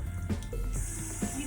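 Tap water running into a bathroom sink to wet a face-cleansing brush, a brief steady splashing rush close by with no speech.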